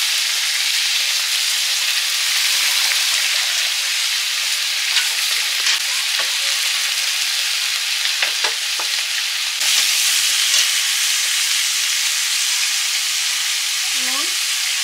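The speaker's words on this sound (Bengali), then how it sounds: "মশলা কষানো হয়ে গেছে, এবারে জল দিয়ে দেবো পরিমাণ মতো।" Water poured into frying spice paste for a Bengali fish curry, a loud steady sizzle and hiss with scattered clicks and bubbling bursts, close by and unbroken, with no clear talking.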